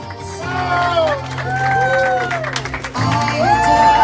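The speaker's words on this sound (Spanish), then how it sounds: "Fuerte el aplauso para ellos, por favor." Guests clap and cheer as a couple enters a quinceañera party, a crowd's applause rising and falling beneath a voice and tonal sounds over a loudspeaker.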